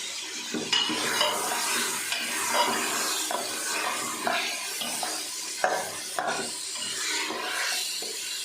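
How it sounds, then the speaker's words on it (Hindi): Goat or mutton pieces fry in a pan for Peshawari namkeen bhuna gosht, a steady close sizzle broken by repeated scraping and stirring strokes against the metal, with no voices. "इसको भी इसका कलर चेंज होने तक अच्छे से फ्राई कर लेते हैं।"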